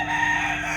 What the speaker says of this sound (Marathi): हे बघ कसं कोंबडा आहे